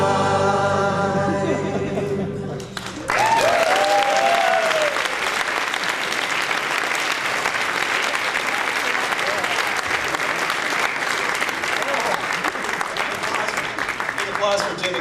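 A song ends and an audience breaks into sustained applause for a live musical performer, dense clapping carrying on steadily with a few faint voices and whoops mixed in.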